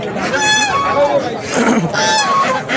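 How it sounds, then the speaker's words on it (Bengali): Ducks and geese at a busy rural village market on an Eid market day, honking and quacking in repeated loud bursts close by, with faint crowd babble beneath. "লালবাগ হাটে হাঁস প্রচুর ওঠে"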